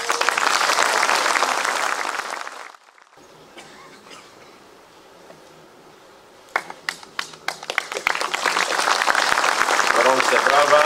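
Audience applause at a Polish championship award ceremony, dense clapping at the start that breaks off, then scattered claps building back into full, steady applause toward the end, with speech faintly present in the gaps.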